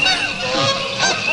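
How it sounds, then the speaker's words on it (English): Several geese honk loudly and close by in a video game, their brassy nasal calls overlapping in a quick, excited burst. "But he's being carried away by geese."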